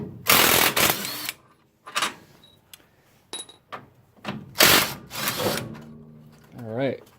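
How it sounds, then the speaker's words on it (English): Bolts being removed from a Chevy Nova power steering box, with bursts of ratcheting and impact-tool noise in several short loud runs, separated by pauses and light clinks. "Now I'll start getting these bolts out."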